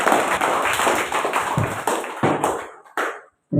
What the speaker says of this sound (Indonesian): boleh tepuk tangan sekali lagi untuk Bapak Yanuar